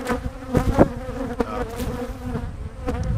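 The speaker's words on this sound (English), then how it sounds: "I can't have bees like that. And they're just swarming me." A loud, close swarm of honey bees buzzing around a beekeeper, wings droning continuously with individual insects zipping past near the ear, no talking.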